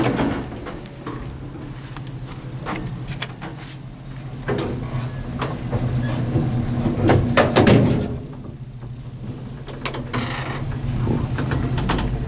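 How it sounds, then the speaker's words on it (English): Rough-running doors on an OTIS Series 1 traction elevator at The Terraces in Pleasant Hill, California, rattle and clunk with scattered clicks over a steady mechanical hum for about twelve seconds, close by. "Very rough doors on this one."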